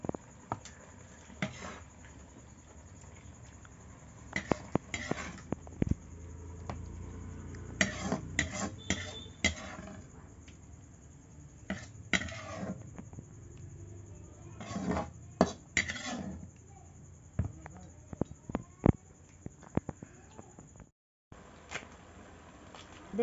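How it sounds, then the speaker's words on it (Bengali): Kochur loti curry (taro stolon curry) being spooned from a pot into a bowl, with scattered metallic clinks and scrapes of a spoon against cookware, fairly close, irregular and moderately loud over a quiet kitchen background. "এর মধ্যে এই বাটির মধ্যে তুলে নেব।"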